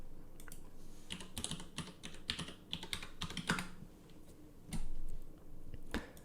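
Rapid keystrokes on a computer keyboard while signing in, a quiet, close, uneven patter of clicks in short bursts with brief pauses.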